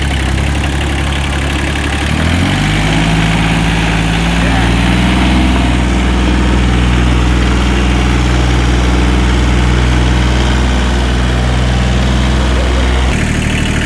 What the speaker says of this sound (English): I'm gonna drive the tractor, or at least try to.